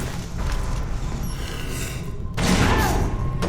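Explosions rumble in the Metro Awakening VR game, heavy low booms and thuds, with a second louder blast rolling in near the end over a steady bed of game noise.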